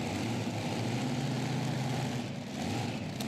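A super modified pulling tractor powered by Hemi engines roars continuously at full power, a dense, steady mechanical drone with no breaks and no voices over it.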